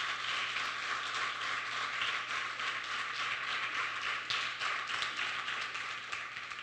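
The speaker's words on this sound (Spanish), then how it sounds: "si va a aplaudirle al Señor, hágalo con toda su fuerza." Church congregation applauding during a sermon, a steady dense wash of clapping throughout with no talk over it.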